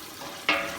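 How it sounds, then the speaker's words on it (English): Meat, onions, tomatoes and spices sautéing in olive oil give a faint low sizzle that jumps to a louder, brighter crackle halfway through, as if the mixture was just stirred or disturbed in the hot pan. "I have been sauteing this mixture of meat, onions, and tomatoes and spices, olive oil for 3 good minutes"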